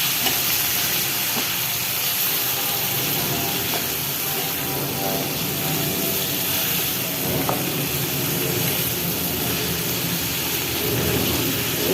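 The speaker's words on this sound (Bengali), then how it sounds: "পেঁয়াজ, আদা রসুন, দুটো শুকনো মরিচ, টমেটো, আদা রসুন, হলুদ, মরিচ সব কিছু দিয়ে যেটা কষাই নিচ্ছি" Onion, ginger-garlic paste, dried chilies, tomato, turmeric and chili powder fry with cut potatoes and red lentils in a pan, giving a loud, steady, close sizzle that runs unbroken throughout with no talk.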